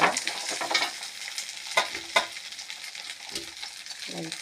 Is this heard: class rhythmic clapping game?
no